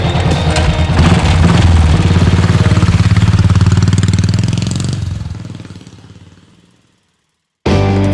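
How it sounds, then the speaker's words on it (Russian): A 500cc Royal Enfield Thunderbird motorcycle pulls away, its thumping single-cylinder engine loud and close, then fading steadily into the distance until silence. "Я выбрал 500-кубовый Thunderbird."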